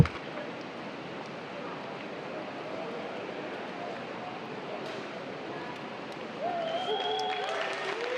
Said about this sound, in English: Applause for Yulia Kozerska.